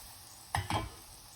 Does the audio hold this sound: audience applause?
no